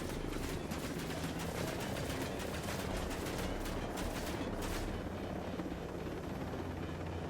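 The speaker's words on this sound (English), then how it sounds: "Goodbye, helicopter." A helicopter in the video game Ghost Recon Breakpoint beats loudly and steadily at close range, its rotor pulsing through most of the stretch and then easing off near the end, with no talking over it.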